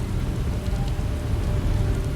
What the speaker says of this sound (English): I used to find the rain so gloomy.